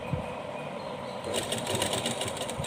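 A sewing machine runs a straight seam on cloth for a small Laddu Gopal dress, a soft steady whir that speeds up into a busier, faster stitching rattle halfway through.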